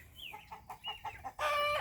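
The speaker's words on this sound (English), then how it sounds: "the chickens are free ranging, so they can come and go" Several short clucks from a nearby chicken, then a louder drawn-out squawk at the end, with no talking.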